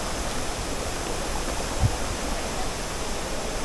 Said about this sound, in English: We are reached to the first waterfall.